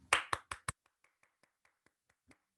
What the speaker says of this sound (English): everybody, big clap for Avito.